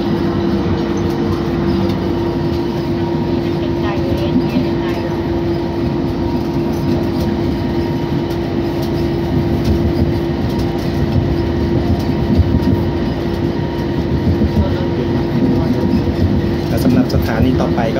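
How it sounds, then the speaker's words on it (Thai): A driverless rubber-tyred BTS Gold Line train picks up speed, giving a steady, loud interior rumble and hum with faint clicking, heard from inside the car and running continuously. "เริ่มเร่งความเร็วแล้วนะ"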